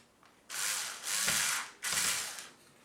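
Terminal screws being tightened on a Ring Video Doorbell Pro power kit, heard as three loud, close bursts of a power driver or ratcheting tool, each lasting about half a second to a second, with short pauses between them.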